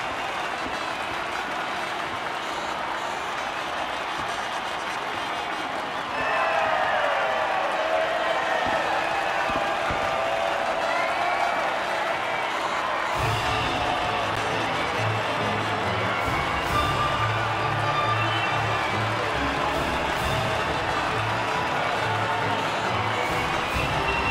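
A crowd cheers and applauds at the podium after an Alfa Romeo win in F1 22, a steady wash of distant cheering that grows louder partway through, with a low rumble and speech mixed in.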